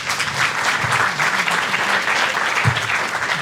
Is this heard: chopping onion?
no